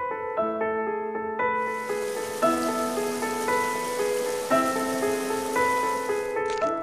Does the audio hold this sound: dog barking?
no